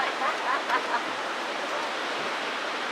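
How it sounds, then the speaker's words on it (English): Waterfall near Geirangerfjord, a constant broadband rush of falling water heard from a short distance, steady and unbroken throughout. "And you can hear the waterfall."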